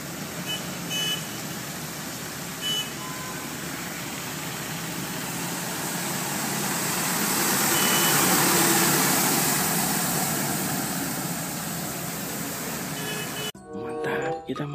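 A street sweeper truck runs with a loud, steady engine roar and brushing hiss that swells midway, with faint intermittent beeps in the background.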